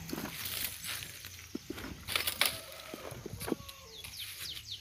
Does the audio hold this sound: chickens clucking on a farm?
yes